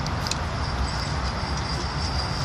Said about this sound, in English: There goes the double tram off to East Didsbury